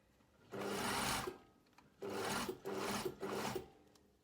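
Seam stitching on a slightly stretchy blazer fabric: a sewing machine runs in three separate bursts, the first longer, the later two short with brief stops between, close and fairly quiet.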